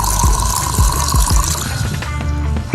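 Water pours steadily from a cold-water dispenser machine at a Brazilian gas station, a continuous close splashing fill with a few drips and clinks over roughly three seconds.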